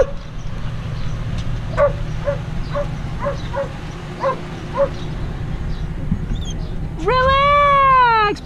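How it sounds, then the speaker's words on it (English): A dog called Barky McSparkles yaps in a string of short, evenly spaced barks by a Colorado river, then lets out a longer, rising whine near the end, over a low outdoor rumble. "you know how I know they're here? Because I can hear Barky McSparkles"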